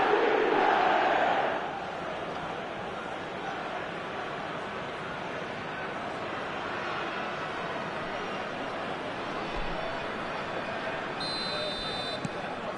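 Football stadium crowd roaring after a late goal, a loud, dense wash of voices swelling in the first seconds and then holding as a steady roar, with a brief buzzer-like tone near the end.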